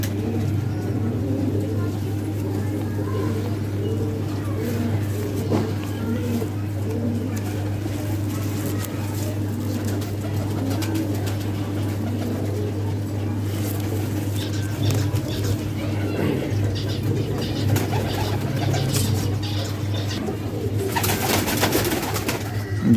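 Pigeons coo in soft, repeated low rumbling phrases close by, with occasional wing flaps and faint traffic behind, while people talk at moments.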